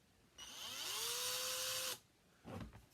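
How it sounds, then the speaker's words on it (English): Power drill spinning to twist square jewelry wire for a birthstone ring, a steady high whine rising to speed and holding for about a second and a half, then stopping, followed by a brief rustle; close and fairly quiet. "So I'm going to put this in a drill. The drill makes this process much faster."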